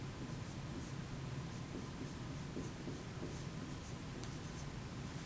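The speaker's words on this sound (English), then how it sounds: "And I'll write that up here." Chalk or marker writing on a board during a maths lecture, a quiet continuous scratchy rubbing with faint tapping strokes over a hissy background, no talking.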